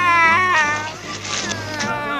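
A cartoon cat meows and yowls loudly in long, wavering, rising and falling cries, close and continuous, with a voice briefly heard beneath.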